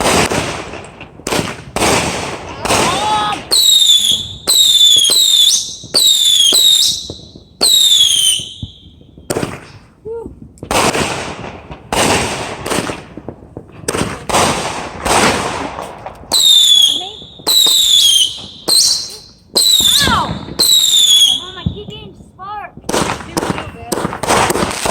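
Fireworks burst repeatedly in close, loud bangs, some with whistling, crackling tails, coming in rapid volleys with short gaps, while spectators exclaim and cheer between the blasts.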